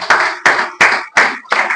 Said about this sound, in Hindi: मैम के लिए फिर से जोरदार ताली लगाइए।